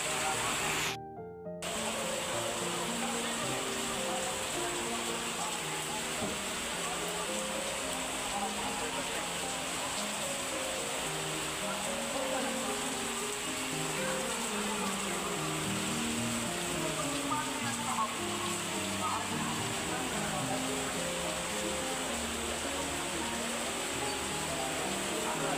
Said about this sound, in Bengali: অনেক বৃষ্টি, দেখেন কি বাতাস,